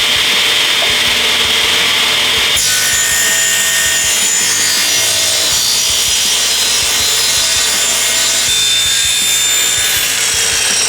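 A power saw cuts steadily through a glued-up base block of 100-year-old mahogany and maple, loud and continuous, its tone shifting as the blade bites deeper into the wood, with no voices.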